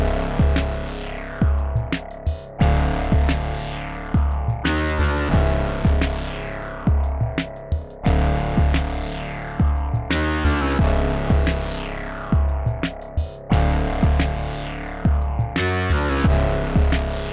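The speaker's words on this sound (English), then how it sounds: "To make this sound even more aggressive, we can patch the output of the mix into the preamp, giving us additional gain." Pittsburgh Modular Lifeforms SV-2 synthesizer with its mix patched into the preamp for extra gain and FM on a pitched-up second oscillator, a loud, distorted, throbbing drone repeating in swelling pulses every couple of seconds, alone.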